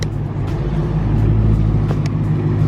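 Loud, low engine rumble from a car at a dealership, a steady deep drone holding close and strong for the whole stretch.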